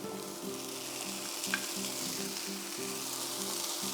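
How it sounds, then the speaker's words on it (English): Bacon and onion frying together in a saucepan, a steady close sizzle with a faint clink of a utensil, running alone without talk. "So let this fry for a little bit until the bacon just about starts to brown and the onion is translucent."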